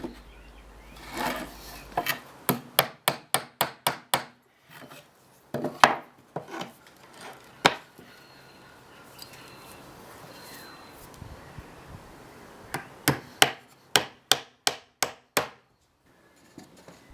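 A hammer drives nails into wooden boards of a rustic crate in quick bursts of four to six sharp strikes, with pauses and some quieter handling and rustling between the groups, close and clear.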